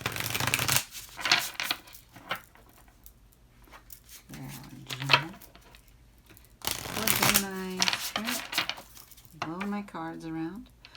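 Tarot and oracle cards, a High Priestess Oracle deck, being shuffled in bursts of crisp riffling and soft slapping, broken by stretches of quiet and a speaking voice nearby.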